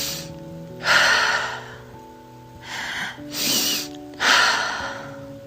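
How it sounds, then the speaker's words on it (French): Breathwork breathing, with air drawn in through the nose and let out through the mouth: several strong, airy breaths in a slow, uneven rhythm, heard close and alone over a soft musical drone. "on inspire par le nez. Donc en fait, c'est 2 inspirations différentes et on laisse s'évacuer l'air, donc sur l'expiration, par la bouche"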